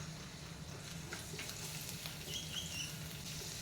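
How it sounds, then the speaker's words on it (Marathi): Garlic frying in about a spoonful of hot oil in a pan, a steady soft sizzle and patter with faint crackles throughout, heard alone without talk. "तेल तापलेलं आहे आता त्यात मी लसूण घालत आहे"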